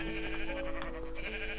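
Sheep bleating in Minecraft on Xbox One, a steady wavering bleat heard alone over game background hum, close and moderately loud.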